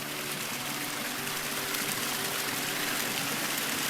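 A small stream pours over little waterfalls outdoors on a hike in Alaska, giving a steady, full rushing wash of water that stays constant throughout with nothing else over it.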